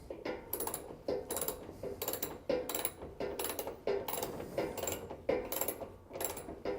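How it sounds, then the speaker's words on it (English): A 9/16 ratchet repeatedly clicks in short rhythmic strokes while tightening bolts on a Flatline Van Co. rear door platform on a Ford Transit van, each pull giving a close burst of metallic ratcheting. "So 9/16 ratchet on this one as well."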